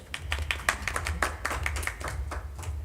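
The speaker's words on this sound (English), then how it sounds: "clap for him" Clapping at a film festival table talk for a director whose debut film won a National Film Award, a small, sparse group of hands heard as distinct, uneven claps rather than a full ovation, close and moderately loud.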